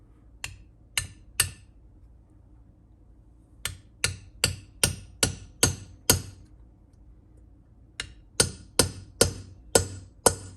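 Sharp metallic hammer taps in three bursts, a few quick strikes, then a run of about seven, then six more, fairly close with a low hum underneath, tapping hollow stem valve parts into an LSA cylinder head until metal seats on metal.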